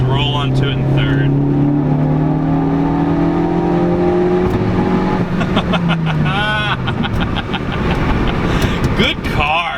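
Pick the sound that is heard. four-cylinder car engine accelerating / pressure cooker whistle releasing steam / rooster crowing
four-cylinder car engine accelerating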